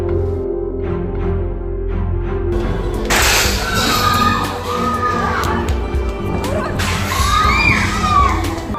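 A rioting crowd shouting and hurling stones at buildings and passers-by during a street protest: a loud, continuous roar of many voices with sharper shouted bursts swelling near and dense throughout.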